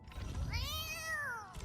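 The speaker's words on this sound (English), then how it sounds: "Her going fucking meow" A character in Arknights: Endfield gives a single drawn-out, high meow that rises and falls in pitch, clear and close, heard alone over faint background game sound.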